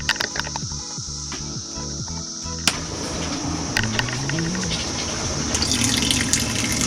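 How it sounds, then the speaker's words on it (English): A newly installed water pump pushes water through the faucets, giving a steady rushing, splashing flow with sputtering bursts early on, then smoother running water at moderate level. "Running water!"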